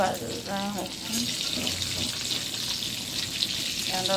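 Fish frying in mustard oil in a pan on a home stove, a steady broadband hiss and crackle that runs the whole time at a moderate level, with a few brief faint voice fragments.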